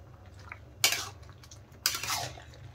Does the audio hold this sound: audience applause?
no